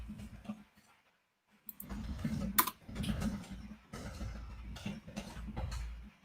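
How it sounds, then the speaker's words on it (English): Keys clatter in quick, uneven bursts on a computer keyboard, close and moderately quiet, with brief pauses between runs of typing and faint room noise. "You're typing away."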